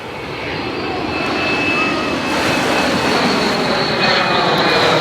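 A fixed-wing airplane flies low overhead near a beach, its engine roar building steadily louder and broad over several seconds and dominating the scene.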